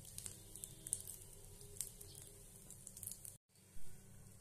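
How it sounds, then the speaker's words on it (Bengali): Whole garam masala and a dried red chilli frying in hot oil in a kadai give a soft, close, crackling sizzle that breaks off briefly and then returns with a small burst. "কড়াতে তেলের মধ্যে গোটা গরম মশলা দিলাম আর একটা শুকনো লঙ্কা দিলাম।"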